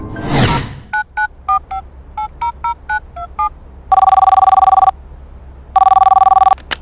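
A telephone rings: a quick run of short electronic beeps, then two long, loud sustained rings separated by a pause, clear and close after a brief whoosh at the start.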